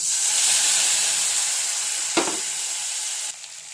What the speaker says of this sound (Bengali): মশলাটা কিন্তু লাল লাল করে দেখো ভেজে নিলাম